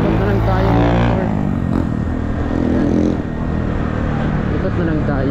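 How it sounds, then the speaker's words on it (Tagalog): Motorcycle riding around the streets of Dapitan City, engine rumbling and revving up close with a continuous road drone, easing briefly midway before pulling on again. "Ikot na lang tayo mag-motor."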